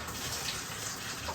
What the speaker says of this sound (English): So now let's run some water.